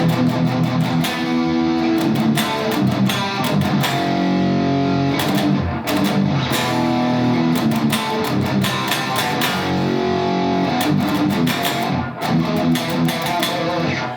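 A heavily distorted electric guitar plays a fast, chugging chorus riff, loud and continuous, with sharp palm-muted stops between chords.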